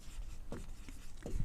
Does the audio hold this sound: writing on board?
yes